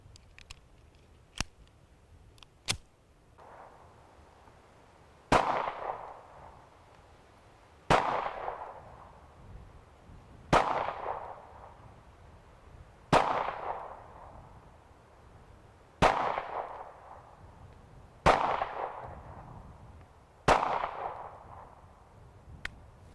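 A 1938 Mauser P08 Luger pistol fires seven sharp, loud shots about two and a half seconds apart, each with a ringing decay. Several faint clicks come before the first shot.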